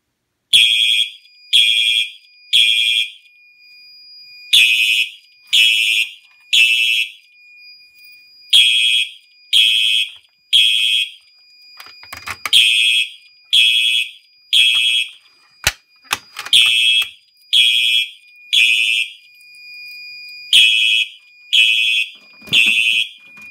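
A Simplex 4903 fire alarm sounds loud and close in a steady series of sharp, evenly spaced electronic pulses, pausing briefly partway through before resuming the same rhythmic pattern.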